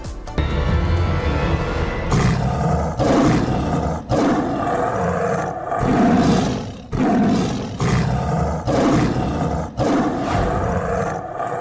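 A tiger roars over and over, loud and close, each deep rumbling roar running a second or two before brief pauses, in a report on a man-eating tiger in Lakhimpur Kheri.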